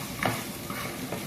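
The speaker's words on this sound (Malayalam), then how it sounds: "മല്ലിയും കൂടെ മിക്സ് ചെയ്തിട്ട്" A spoon stirs coriander powder through a Kerala-style seer fish curry in the pan as a steady sizzle rolls underneath, with a couple of soft scrapes in a short, close burst and no speech.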